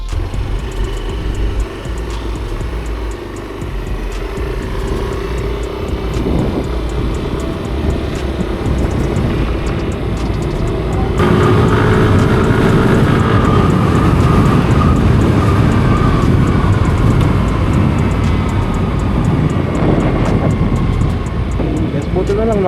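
A Yamaha Aerox S V2 scooter on its stock exhaust hums steadily while being ridden, with constant road and wind rumble and engine drone throughout and a voice talking over it.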